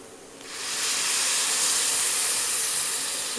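Milk poured onto grated carrot roasted in ghee sets off a loud, sudden hissing sizzle that swells in the first half second and holds steady, bright and close, with no talking.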